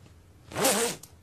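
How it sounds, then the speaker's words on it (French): A single quick zipper pull, close and crisp, rising and falling over about half a second amid quiet. "Une fermeture éclair."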